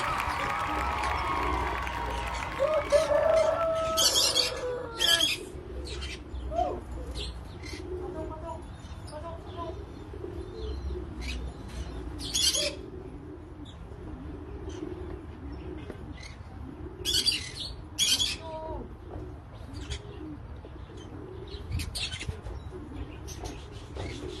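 A racing pigeon returns from a 1000 km final race, its soft cooing mixed with other birds' calls and scattered wing flaps, while people talk and call out excitedly close by.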